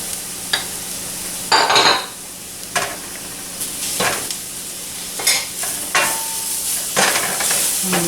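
Pork chops frying in a pan with butter for smothered pork chops, a steady sizzle broken by a handful of sharp scraping stirs and utensil clinks against the pan, close and alone without talk.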